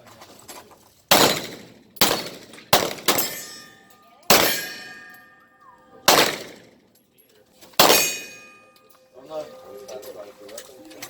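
Six or seven sharp gunshots at an outdoor shooting range, loud and spaced a second or two apart, each ringing with metallic clangs from struck steel targets, with voices heard near the end.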